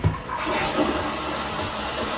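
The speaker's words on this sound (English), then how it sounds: "Flush work." A newly installed toilet flushes close by, a loud continuous rush of water that holds steady throughout, with no voices.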